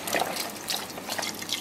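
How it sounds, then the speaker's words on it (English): Chicken broth or bone broth is poured into a pot for chicken and rice soup, giving a continuous close liquid trickle and splash with no talking. "We're then going to add in 4 cups of chicken broth or bone broth"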